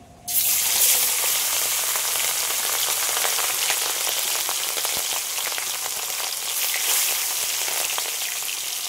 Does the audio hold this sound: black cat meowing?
no